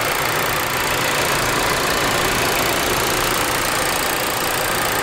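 The 1.4-liter turbo engine of a 2019 Volkswagen Jetta SEL Premium idles with the hood open, a loud, steady, close mechanical hum and whir holding evenly throughout with no voices.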